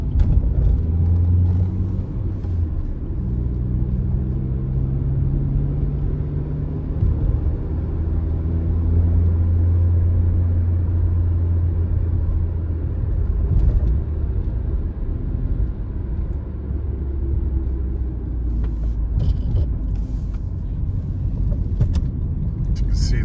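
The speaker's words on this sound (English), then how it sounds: "Just driving out of Sderot now." A car drives along a road leading out of Sderot, Israel, its steady low engine and tyre rumble continuous throughout, with voices talking over it much of the time.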